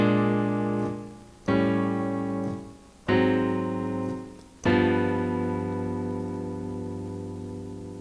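Blues bass line using a tritone substitution with a chromatic descent, four struck notes ringing out and fading, the last one held longest, played alone without talk.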